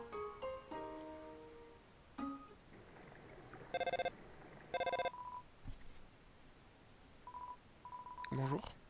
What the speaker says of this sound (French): La mauvaise sonnerie de téléphone.